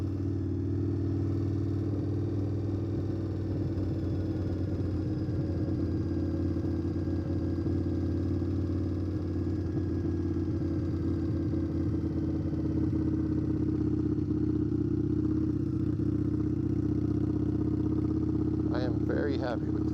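A custom-tuned Indian Scout Bobber motorcycle rumbles continuously at a steady engine note through its aftermarket exhaust, loud and close, with a rider talking over it.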